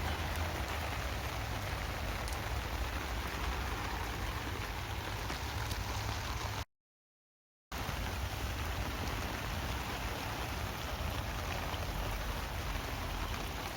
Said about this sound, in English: hopefully the rain will ease up